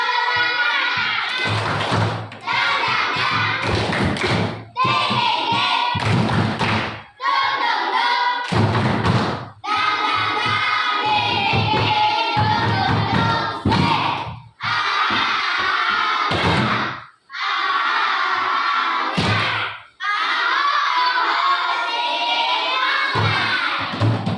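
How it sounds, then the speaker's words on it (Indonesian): Children in a classroom perform a rhythmic spirit clap, sharp claps and thumps in patterned bursts between loud unison chanting and shouting, with brief pauses separating each round, close and energetic. "boleh tepuk semangatnya sekali. Tepuk semangat."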